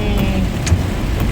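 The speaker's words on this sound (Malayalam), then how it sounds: "ഒന്നൊന്നര മഴയാണ്" Heavy rain pours onto the road while a car drives through it, a steady dense wash of noise with road rumble that continues without a break for the whole moment.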